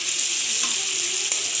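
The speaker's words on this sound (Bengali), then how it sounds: "ভালোভাবে লাল লাল করে ভেজে নেব" Prawns fry steadily in hot oil as they brown, a continuous close, bright sizzle with faint crackles and no voices.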